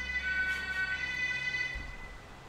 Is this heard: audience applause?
no